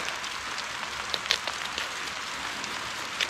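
Rain falls on clay garden soil during crocus bulb planting, a soft steady patter with scattered sharper drop ticks, moderately faint and continuous with no talking.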